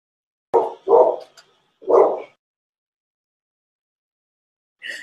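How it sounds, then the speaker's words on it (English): A big-voiced dog barks three deep, loud, close woofs in quick succession, then falls silent, and a faint voice follows at the end. "my dog has a huge voice"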